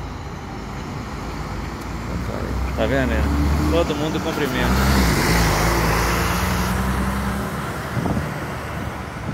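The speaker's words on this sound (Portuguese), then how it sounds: "Cara, é um ônibus atrás do outro." Buses pulling out one after another from the Tietê bus terminal in São Paulo, a steady roar of heavy diesel engines and road traffic, with people talking over it throughout.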